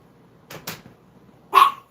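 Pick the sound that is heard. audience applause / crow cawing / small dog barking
small dog barking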